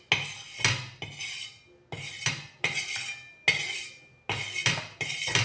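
Roasted flour being scraped from a pan into a small dish, giving repeated metallic clinks and scraping strokes of a spoon against cookware in an uneven rhythm, close and fairly loud.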